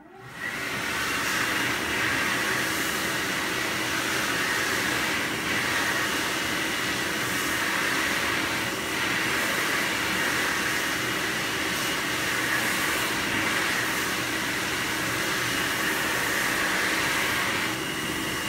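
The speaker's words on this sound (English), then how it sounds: "Mitsubishi Jet Towel Hand Dryer." A Mitsubishi Jet Towel hand dryer runs continuously, giving a loud, steady rushing roar of forced air with a broad hiss that holds unchanged for nearly twenty seconds, with no voices.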